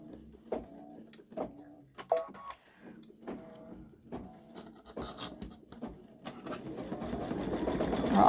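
A Baby Lock Solaris embroidery machine locks its stitch: close, rhythmic mechanical stitching pulses that speed into a louder continuous whir at the end.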